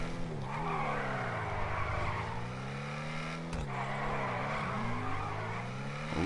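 A car in GTA V drifts and skids, long wavering tire squeal over a revving engine that rises and dips, with a brief interruption midway before the screech resumes, loud and close.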